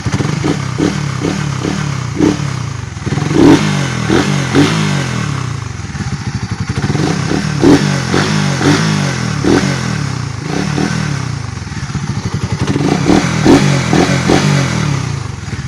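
A Suzuki Raider 150 FI motorcycle engine with its air filter removed idles roughly and is revved repeatedly in short bursts, loud and close, with a raw, rattly exhaust note.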